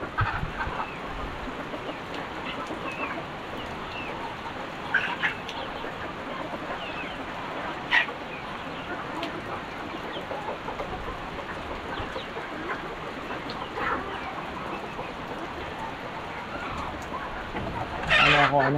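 A flock of chickens clucks continuously while feeding on wheat under heavy rain, a dense chorus of clucks blended with steady rain noise and occasional louder calls.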